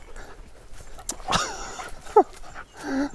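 A dog out in a forest gives a short whimper and a quick yelp-like vocalization up close, with some panting and rustling around it.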